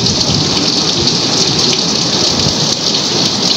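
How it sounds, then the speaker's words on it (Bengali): Heavy rain pours steadily onto a rooftop during a storm, a dense, continuous hiss of drops drumming close and loud with no voices. "এই যে ছাদটা ভিজে গেছে, ছাদের উপরে পানি পড়ছে।"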